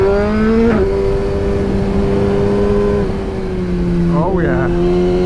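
A 2017 Suzuki GSX-R1000 sports bike fitted with carbon wheels runs on the road with a loud, steady engine tone that shifts pitch twice as gears change, under wind noise and a rider's speech.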